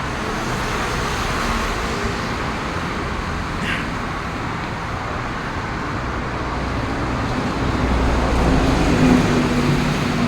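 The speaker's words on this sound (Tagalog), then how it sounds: "Ay, dumaan na yung bus 50." City bus number 50 passes on a street in Taiwan, a broad steady roadway rumble of engine and traffic that grows slightly heavier toward the end, no voices heard.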